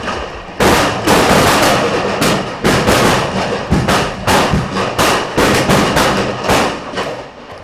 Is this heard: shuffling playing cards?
no